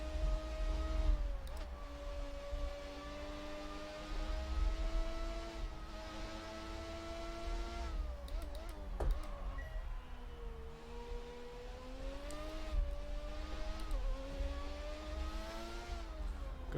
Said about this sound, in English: Oh, I love the sound of that car. Yeah, that must be the V12 Ferrari.